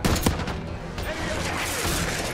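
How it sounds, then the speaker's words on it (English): Sniper rifle fire in Call of Duty: Black Ops 6 sounds as loud, dense gunfire with several sharp cracks early on, layered with continuous battle noise and a booming rumble throughout. "So we break out the sniper rifle."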